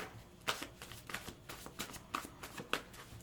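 Archangel Power tarot cards are shuffled by hand in a quiet room, producing soft, irregular flicks and riffles that come in small bursts, faint and close.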